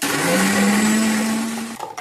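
Blender pureeing seeded watermelon chunks with a little black salt, a loud close whirring motor with a steady pitch that runs for almost two seconds and then cuts off abruptly.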